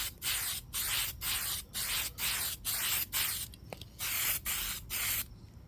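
A coat of spray paint goes onto a car body in roughly nine short, evenly spaced hissing bursts, close and alone, with brief pauses between passes.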